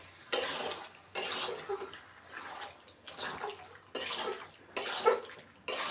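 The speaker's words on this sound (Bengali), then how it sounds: "হয়তো মাংসটা দিয়ে ভালোভাবে নেড়ে নিব" Chicken meat is stirred in a cooking pot in bursts of scraping and sizzling, with a spoon clattering against metal in repeated strokes separated by short quieter pauses.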